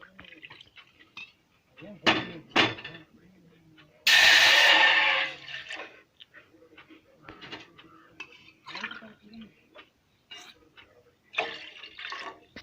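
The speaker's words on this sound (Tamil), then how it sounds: "இதில் வந்து ஒரு 2 டம்ளர் அளவுக்கு தண்ணி சேர்த்துக்கலாம்." Water is poured into a pot on a lit stove for ginger tea, a single steady gush lasting about a second and a half, set among scattered kitchen clinks and knocks.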